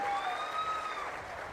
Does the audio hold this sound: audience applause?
yes